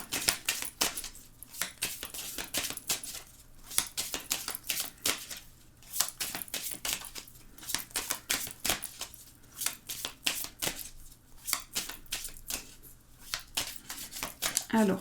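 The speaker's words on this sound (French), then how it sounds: "Je vais remélanger un petit peu." A deck of oracle cards being reshuffled by hand, a run of quick crisp riffling and slapping bursts repeating close up with brief pauses between.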